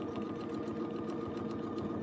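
Sewing machine stitching a quilt with a ruler work foot and a universal needle, a steady close hum overlaid by fast regular needle taps, with no one speaking.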